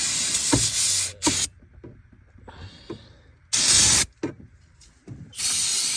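Brake parts cleaner sprayed onto the timing cover of a 2018-2023 Volkswagen Atlas SE engine, heard as several loud, sharp hissing aerosol bursts of about a quarter to half a second each, separated by quiet gaps.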